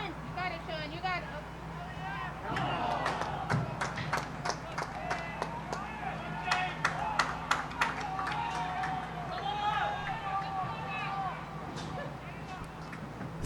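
Spectators at a boys' high school soccer semifinal at Taft Field, under the lights at night, cheer and clap steadily, with scattered sharp claps and voices rising over a constant crowd murmur.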